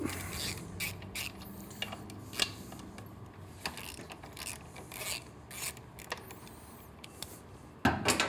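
Bolts on a Triumph motorcycle frame rail are backed out with an 8mm Allen hex bit, giving quiet, irregular ratcheting clicks and scraping rasps of metal, with a louder clack near the end.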